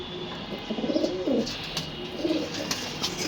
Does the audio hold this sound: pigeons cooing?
yes